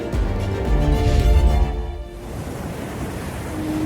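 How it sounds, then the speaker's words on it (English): Ocean waves surging with a wind-blown rush that swells for a moment before easing into a softer, steady wash of surf. "We listen to the ocean"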